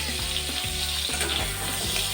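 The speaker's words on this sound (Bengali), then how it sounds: "চিকেনের টুকরোগুলো ভাজা হয়ে গেছে" Chicken pieces for soup sizzle in hot oil in a pan, a close, continuous crackle with a few stirring scrapes and no voices.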